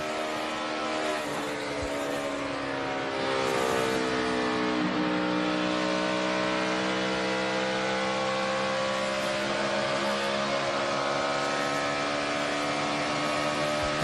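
In-car sound from a NASCAR Sprint Cup stock car at the 2011 Bank of America 500, a loud, continuous engine roar with harmonics rising and falling through shifts and corners, close up and without talk.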